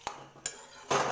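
Puffed rice frying for an Assamese murighonta dish is stirred in a pan, with three sharp metallic clinks of a spoon against the pan, the last followed by a brief rustling scrape.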